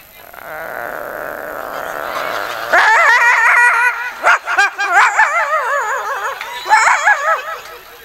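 A voice imitates dogs fighting: a low, steady growl, then rapid snarling yelps and barks in close, agitated bursts.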